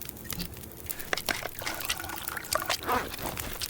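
Water pours and trickles into a flask in The Long Dark, a run of splashy gurgles and drips in uneven bursts, fairly close and clear.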